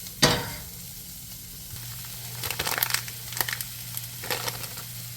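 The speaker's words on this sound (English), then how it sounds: "once I pull her part out, I'm going to throw some eggs in it" Eggs crackle and sizzle in a hot frying pan, a soft steady hiss with short crisp pops and a sharp clatter at the start, close by and quiet, no talk.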